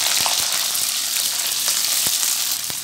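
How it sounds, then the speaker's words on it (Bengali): Chopped cauliflower frying in hot oil with cumin seeds and dried chilli, a loud, dense sizzle with occasional sharp ticks and pops from the pan. "কপিটাকে একটু ভেজে নিচ্ছি আগে।"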